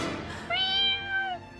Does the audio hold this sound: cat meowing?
yes